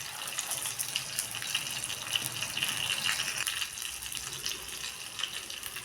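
A steady gushing stream of water pours continuously into a pot of fish curry with ground masala for several seconds, a full, splashing pour with a faint rattling edge, no voices.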